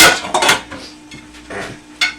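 A knife cutting into a whole smoked turkey, with a few sharp metallic clinks and scrapes of blade and utensils against a platter, close and brief, separated by quiet gaps.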